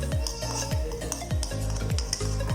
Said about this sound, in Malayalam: നല്ലോണം ഒന്ന് വറുത്ത് കൊടുക്കുക.